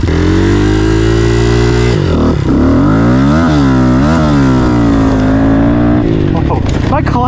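A small pit bike engine screams at full throttle, bouncing off a 2-step launch limiter, with sharp rapid pops and pitch dips between sustained high revs, loud and close with occasional voices.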